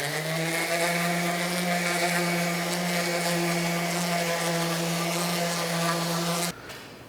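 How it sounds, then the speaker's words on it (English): An orbital sander with 220-grit paper works a wooden display board for a model steam engine, giving a steady, close, humming whine that holds even for about six seconds and then cuts off abruptly. "I went to 220 with the orbital sander"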